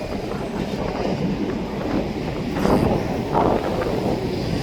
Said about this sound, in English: the train's halfway down